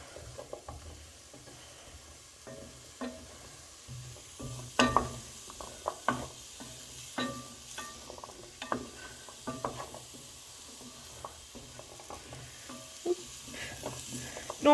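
Courgettes cooking in a pan for a quiche, a soft background sizzle broken by frequent clicks and scrapes of utensils, fairly quiet with no talk.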